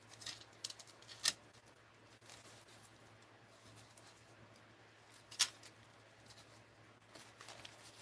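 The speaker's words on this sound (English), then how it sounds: "Maybe I'll go on the other side and cut it." Scissors cut through material at a crafting table, giving two distinct sharp snips several seconds apart over faint rustling and a low steady hum, quiet and close, with no talk.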